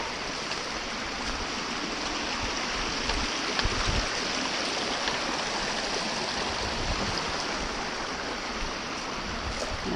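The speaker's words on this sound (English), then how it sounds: "crossing a little creek here" A small creek crossing a mountain hiking trail rushes and burbles steadily, close by and fairly loud, with a brief low thump midway and no voices.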